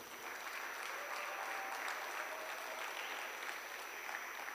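Audience applause for a conference panel on co-creation and partnerships, a steady, even wash of clapping from a crowd that holds for several seconds with no talking over it.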